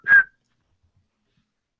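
A single short, clear whistle from a person, one bright steady note lasting a fraction of a second, close and alone, followed by silence.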